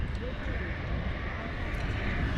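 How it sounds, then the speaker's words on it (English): A Ryanair Boeing 737 MAX 8 arriving from Barcelona at London Luton Airport, heard as a steady broadband jet engine roar that stays fairly constant throughout, with a voice talking over it. "Boeing 737 MAX 8 Ryanair coming in from Barcelona"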